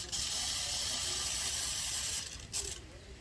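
A handheld pump sprayer hisses out a steady spray of water into seed-starting soil for spring winter sowing of herbs and flowers, fairly close and continuous before tapering off near the end.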